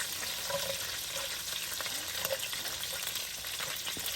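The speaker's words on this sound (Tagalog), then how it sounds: "Gisahin po muna natin yung sibuyas." Minced pork and onion sauté in a hot pan with a steady, close sizzle, while a few light stirring scrapes of the utensil come through over the frying.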